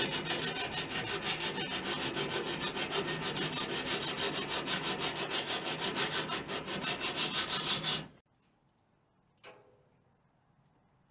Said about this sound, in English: The main panel had to be trimmed where it meets the edge of the new panel.